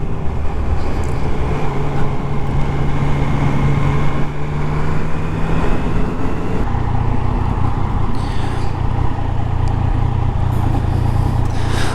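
Yamaha MT-09 motorcycle from 2019 accelerating in standard mode, a loud continuous engine drone with rising tone near the microphone and steady wind rush, no talk.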